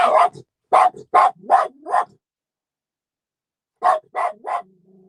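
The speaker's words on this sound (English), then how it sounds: "Literally all the dogs on the show are outside barking." Several dogs barking outside, two loud bursts of sharp barks separated by a pause, ending in a faint whine.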